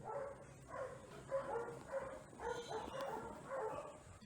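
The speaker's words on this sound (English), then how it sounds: "I did, however, though, wake up really early because of all the barking going on outside." Dogs barking outside in the Philippines, a string of repeated yipping barks with slight whimpers, muffled and moderately distant.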